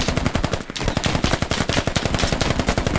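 Sustained automatic gunfire from a machine gun in the military shooter game Squad, a dense rapid rhythm of loud close shots running steadily for the whole stretch with no talk over it.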